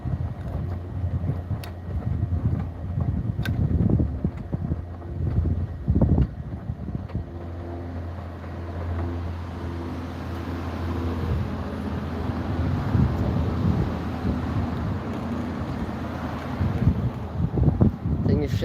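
A washing machine drum spinning at 100 RPM gives a steady, close low rumble with a faint hum and slight rattling throughout.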